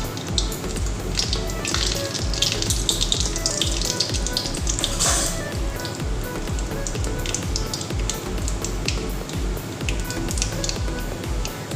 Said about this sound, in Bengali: এর মধ্যে আমি দিয়ে দিব কালি জিরা ফোড়ন